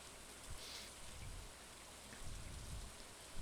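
Rain falls in the farming video game Stardew Valley, a soft, steady hiss of drizzle with faint patters and drops, quiet and continuous throughout.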